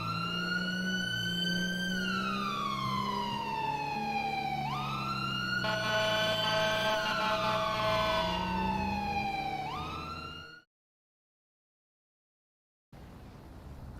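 A police car siren in a Los Santos video game wails steadily and loud, sweeping through long rising and falling cycles, then cuts out abruptly before a faint noise returns.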